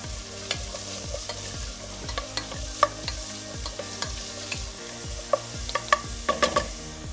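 Vegetables and celery sizzle in a pot of vegan sancocho stew while a spoon stirs them, a soft steady frying hiss broken by repeated scraping strokes and light clicks.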